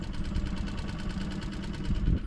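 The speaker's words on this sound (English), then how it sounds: "Right, John, stop the engine and off we start it" A boat engine runs on Clywedog Reservoir in Wales during fly fishing, a steady close mid-pitched throbbing drone that continues without a break.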